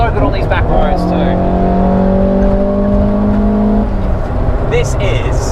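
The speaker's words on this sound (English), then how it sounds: "Every time you accelerate under load, you get that noise." A Toyota AW11 MR2 with its 4AGE engine pulls hard under load on a back road, a loud in-cabin engine drone climbing in pitch, with brief talk at the start and end.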